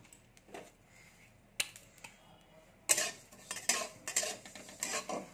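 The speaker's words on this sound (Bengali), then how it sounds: "কোড়াতে আমি একটু মৌরি ভেজে নিচ্ছি" Fennel seeds being fried and stirred in a wok, with sparse metallic scrapes and clinks early on, then busier, louder stirring clatter and crackle; no talking.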